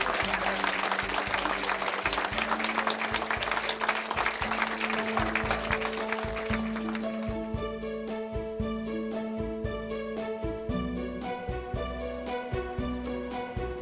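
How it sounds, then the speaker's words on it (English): An audience applauds the women of the Hub Community Kitchen, a burst of clapping that thins out about halfway through as a sustained piano-like musical tone carries on alone. "Another round of applause for the women of the Hub Community Kitchen"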